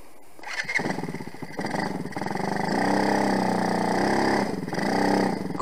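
A small 110 cc quad ATV engine idles roughly, then revs up and holds under throttle before easing slightly, a loud, close, buzzing motor sound running the whole time, heard while it has a fault and cuts out.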